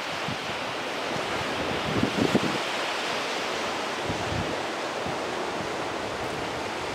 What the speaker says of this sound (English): Isn't the ocean beautiful?